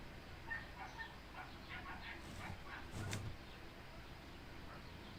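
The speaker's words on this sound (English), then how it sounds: "Can you hear these dogs?" Several dogs bark faintly in the distance on a summer afternoon, the barks soft and scattered under steady background noise and a little talking.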